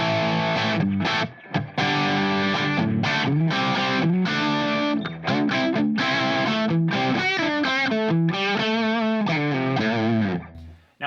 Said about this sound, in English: Now I'm gonna flip over to the BE side of the amp, which has significantly more distortion to it.